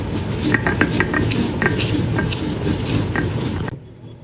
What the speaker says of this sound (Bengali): আগে মরিচগুলো বেটে নিতে হবে।